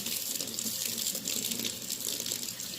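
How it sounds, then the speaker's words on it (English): Water runs through a garden hose nozzle in a steady hissing stream, constant and close, with no pauses or voices. "Run some water through here."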